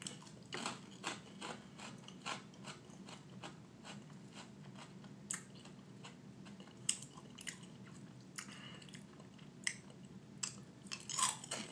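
Close, quiet crunching of sweet cereal being chewed, with steady repeated bites and crackles and no talking.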